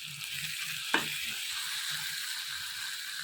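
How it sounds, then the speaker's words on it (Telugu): Ginger garlic paste frying with curry leaves in hot oil, a dense steady sizzle heard up close, with a single sharp clink of a utensil against the pan partway through and no one talking. "ఇలాగ వేగిన దాంట్లోకి అల్లం వెల్లుల్లి పేస్ట్ వేసుకోవాలి. వేసుకొని కొద్దిగా ఫ్రై చేయాలి."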